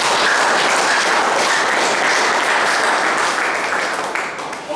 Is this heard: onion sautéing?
no